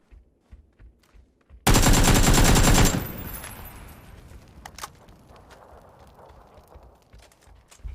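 Gunfire in the battle royale game PUBG: quiet footsteps, then a loud sustained burst of automatic fire lasting over a second, followed by a decaying echo and a few scattered single shots.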